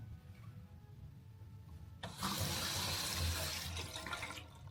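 A hotel bathroom sink tap at the Tokyo Dome Hotel is turned on, and after a quiet start water suddenly gushes into a wide basin with a strong, steady close-up rush.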